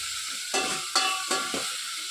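Tomatoes frying in a pan for a vegetable curry, a steady hiss of sizzling oil broken by several soft stirring scrapes at irregular intervals.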